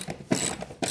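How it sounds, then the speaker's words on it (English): A hand ratchet drives lag screws through a folding weight bench's wall mount bracket into a wall, a close, steady run of clicking strokes with brief pauses between pulls. "Lag screws are installed, screwed in."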